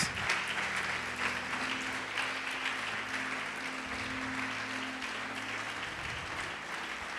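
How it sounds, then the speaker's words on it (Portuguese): A church congregation applauds Jesus during a sermon, a broad continuous patter of clapping with low instrumental or voice tones humming beneath it, steady throughout. "Vamos aplaudir Jesus, vamos glorificar Deus."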